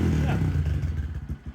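A 2022 Honda Grom motorcycle fitted with a Yoshimura RS9T exhaust idles close by with a low, throbbing burble, its loud engine pulsing unevenly as it settles from a rev.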